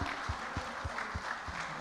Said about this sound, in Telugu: సో గట్టిగా ఒకసారి చప్పట్లు to the complete editing department.